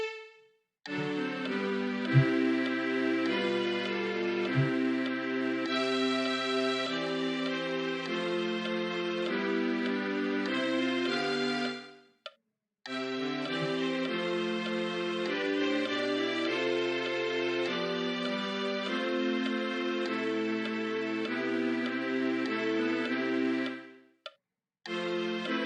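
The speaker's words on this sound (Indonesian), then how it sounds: "Coba sekarang kita dengar yang menggunakan non harmonic tone bunyinya seperti apa." Tonal music example demonstrating non-harmonic passing tones, a steady sustained melodic passage in two phrases separated by a brief pause, played alone with no talking.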